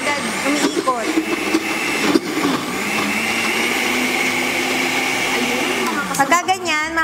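A blender whirs steadily as it mixes a honey drink, the motor humming at an even pitch for several seconds before sputtering and revving near the end, with a person speaking over it.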